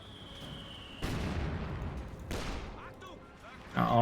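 Bursts of MG-34 machine gun fire and battlefield explosions from Company of Heroes 2 gameplay, with a couple of loud impacts rising over ongoing combat noise, followed by a sharp crackle near the end.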